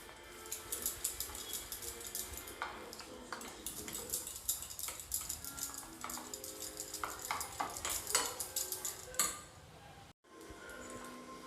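A spoon stirs pakora batter in a bowl after hot oil is added, producing quiet, close, irregular clinks and taps against the bowl with soft wet mixing in between, pausing briefly near the end.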